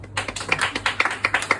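Quick rhythmic hand clapping from a comedy club audience in Nice, a short, fairly quiet burst of a dozen or so sharp claps in steady succession, heard closely.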